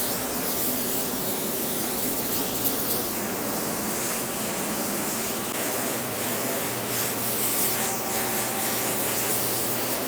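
A spray gun lays a quick-drying paint coat onto a car in a home garage, giving a steady, loud, continuous hiss that holds unbroken throughout with no talking.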